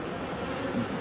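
Honeybees buzzing at a hive, a dense continuous drone of many insects close to the microphone, steady throughout with no voices.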